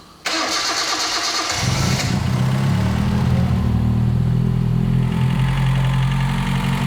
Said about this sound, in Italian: mettere in moto la macchina e finalmente sentire come canta il nostro motore